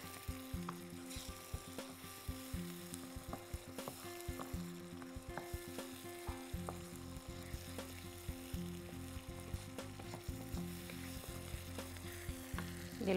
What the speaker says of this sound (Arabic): الفلفل طبعا بيدوب بسرعة جدا يعني بياخدش وقت، فهو خلاص بدأ يعمل